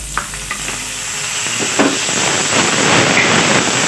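Tomatoes drop into a pan of Ilocano pinakbet with ginger, setting off a loud, steady sizzle and hiss of frying that builds and holds, with a few light scrapes and stirring knocks near the start.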